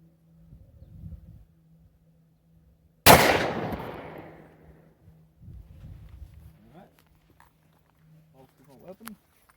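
A single loud gunshot from a Glock 27 pistol firing a Ruger APX round into an encyclopedia, a sharp crack with a decaying tail, with quiet talk before and after.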